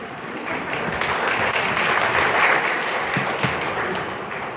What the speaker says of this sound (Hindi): कोई बात अच्छी लगी तो ताली बजा सकते आप।